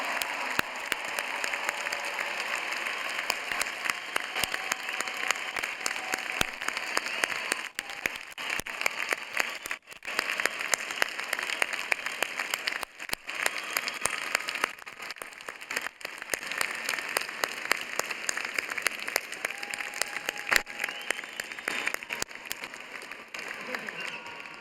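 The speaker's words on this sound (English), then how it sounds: "Class of 2019, please stand, turn around, and applaud your family and friends who have supported you through your studies" Sustained applause from a large crowd of graduates turning to clap for family and friends at a commencement ceremony, a dense, steady roar of clapping lasting throughout, with no break.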